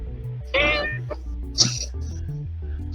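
Sparkles the cat lets out a short, fairly loud meow, followed later by a brief higher squeak, with people talking quietly around it.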